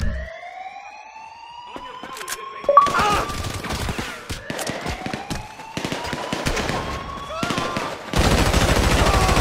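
Bursts of automatic and single gunfire crack repeatedly in Grand Theft Auto 5, sharp and loud over a wailing police siren, ending in a dense rapid volley.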